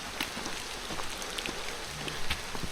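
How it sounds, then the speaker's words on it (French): Rain falls steadily outdoors, a continuous close patter with scattered individual drops striking nearby surfaces. No one speaks. "Comme vous pouvez voir il pleut bien."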